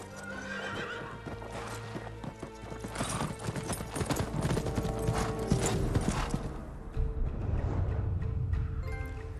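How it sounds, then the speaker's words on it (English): Hooves of a dapple horse clip-clop in the video game Ghost of Tsushima, a steady rhythmic trot with a neigh, over game music and low mechanical rumble. "This is Nobu, my horse. He's a dapple horse."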